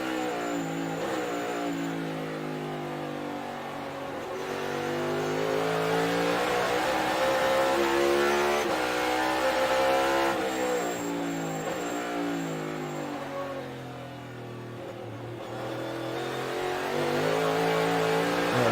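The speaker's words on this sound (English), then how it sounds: "so we're riding on board with AJ Allmendinger" A NASCAR race car engine roars from the onboard camera at Road America during the 2022 Kwik Trip 250 road-course race, loud and continuous, its pitch climbing and dropping through gear changes and braking, with no talk.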